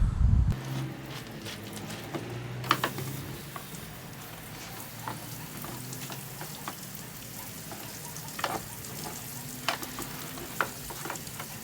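An ATV radiator cleaning spray tool hisses with a steady wash of spray, broken by short clicks and splashes as it runs, fairly close and with no talking.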